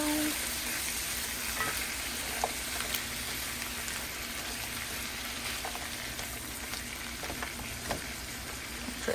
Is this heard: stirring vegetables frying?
yes